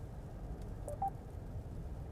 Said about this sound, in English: I am calling the cell phone of Dirk Fetz now.